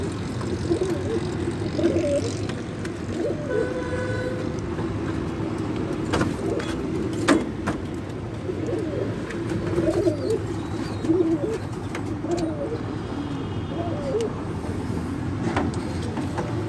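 Soft, repeated cooing from breeder pigeons on a house rooftop in Tarlai, Islamabad, heard fairly close against a steady wash of distant traffic and a passing aircraft, with only occasional faint voices.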